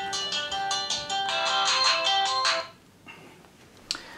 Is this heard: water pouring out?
no